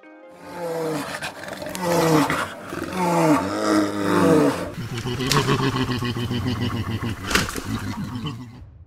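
Grizzly and American black bears roar in repeated deep, rough bellows that swell and fade across several seconds, with a voice heard talking over parts of the calls.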